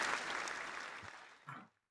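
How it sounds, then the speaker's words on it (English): Listeners at an INCOG stakeholder lunch event give a round of applause: a brief burst of many people clapping that thins out and fades, with a last few claps at the end. "Let's give them another round of applause at INCOG"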